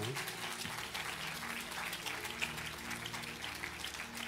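Applause during an ordination ceremony in a church, steady, fairly faint clapping from a congregation with a low tone droning underneath.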